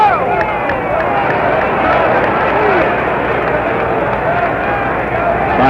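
A 1965 World Series crowd in Minnesota keeps up a steady, loud stadium roar and chant, a continuous rumbling babble from thousands of fans with a commentator's voice running over it.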